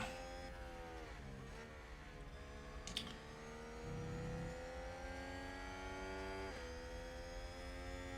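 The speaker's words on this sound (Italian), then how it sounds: "Sentite il motore McLaren." A McLaren Formula 1 car engine in the racing game F1 Manager 2022 hums steadily in the background at low volume, with its pitch rising and falling as the car accelerates.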